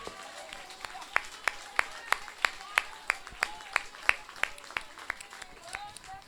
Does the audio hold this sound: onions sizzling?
no